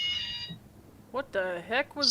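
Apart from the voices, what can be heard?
phone alarm going off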